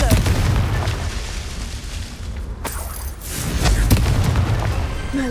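A Confringo fire spell exploding in Hogwarts Legacy, a sustained booming blast with rumbling bursts and crackles throughout, with game audio around it.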